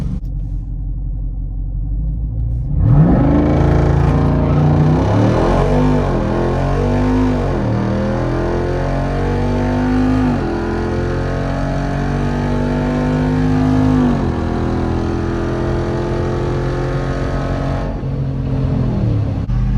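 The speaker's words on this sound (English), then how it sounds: "Now we're going to be racing this Mustang GT." Loud, close engines of a Jeep Wrangler Rubicon 392 and a Mustang GT rumble, then rev hard and accelerate in repeated rising surges as the cars launch and pull away in a drag race.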